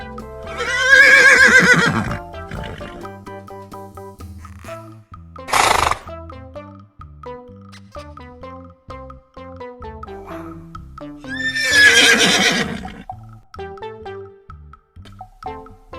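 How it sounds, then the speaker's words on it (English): A horse whinnies loudly twice, each a long shaking neigh, with a short snort-like burst between them, all over a continuous musical backing. "Horse."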